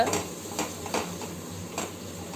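A spoon stirs a masala of dried chilli and coriander in a pan for sundal gravy, giving soft repeated scraping ticks at a steady rhythm over a faint sizzle, close and fairly quiet.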